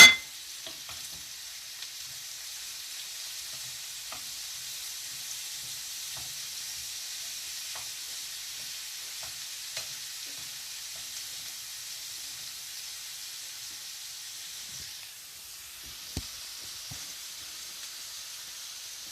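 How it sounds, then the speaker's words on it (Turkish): Tomatoes sizzle in a pan of liver stew, giving a steady, fairly soft frying hiss with a few faint clicks of stirring throughout. "Yahnemize domatesleri ekliyoruz."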